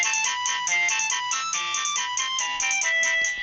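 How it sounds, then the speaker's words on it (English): An old mobile phone ringtone plays alone as a bright, steady electronic melody with quick repeating notes, continuous and fairly loud for the whole stretch, with no talking over it. "And here's my old ringtone from my phone."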